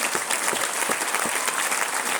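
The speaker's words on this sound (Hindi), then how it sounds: "रीजनल मैनेजर भरत जैन जी हैं, उनके लिए हैं तालियां जबरदस्त हो।" Loud, dense applause from a sizable audience, continuous clapping filling the whole moment.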